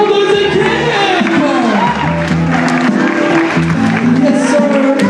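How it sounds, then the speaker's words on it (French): A lively crowd at an improv match cheers and applauds both teams after an overtime victory, a dense continuous roar of clapping, whoops and shouting voices. "une belle applaudissement pour nos deux équipes"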